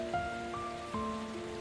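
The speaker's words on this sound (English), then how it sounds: "Look at the rain. It's pouring outside today." Heavy rain pours outside a house, a soft steady hiss lying under sustained musical tones for the whole short stretch.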